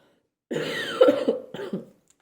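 A single drawn-out cough, close and fairly loud, followed by a shorter second cough, with silence around them.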